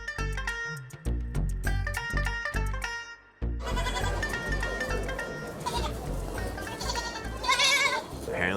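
Goats and sheep for sale at Nizwa market in Oman bleat several times amid a dense, busy crowd din, the animal cries cutting through near and loud over steady market noise.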